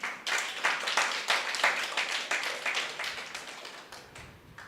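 A church congregation claps during a sermon, with a steady run of crisp, fairly loud claps from a crowd at mid distance that eases off toward the end.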